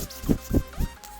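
Three soft puffs of air squeeze in and out of a glue bottle in a steady rhythm, each a short breathy wheeze, close by and fairly quiet.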